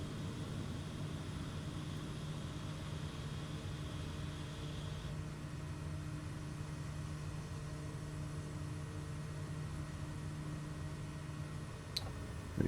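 A light aircraft engine in MS Flight Simulator drones steadily and evenly in flight, with a faint click just before the end.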